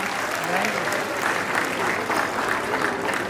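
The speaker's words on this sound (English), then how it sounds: "I think you should clap." A crowd at a college sports prize-distribution ceremony in a stadium claps steadily, the applause rising and falling slightly in waves with talking mixed in.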